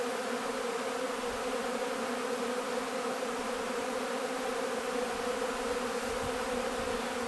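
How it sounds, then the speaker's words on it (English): A dense, steady drone of many honeybees swarming around the hives of an apiary on a warm April day, a continuous buzz with no talk. "been a long time since I've seen and heard this much activity in the apiary"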